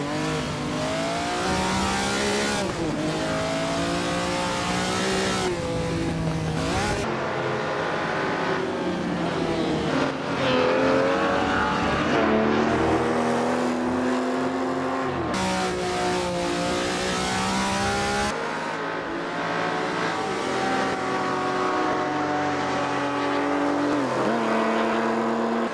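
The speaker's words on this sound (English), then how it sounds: "I take the award at least for the best sounding car in the field with that incredible V12" A vintage V12 race car engine in Assetto Corsa revs hard and continuously, climbing and dropping through gear changes in a loud, sustained howl with no voices over it.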